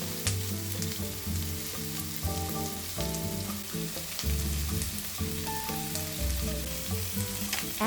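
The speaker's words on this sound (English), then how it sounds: "Fried onion, garlic, and peppers together create a sweet spicy aroma you'll love." Onion, garlic and peppers fry in a hot pan with a steady, close sizzle, sounding under a bed of continuous music.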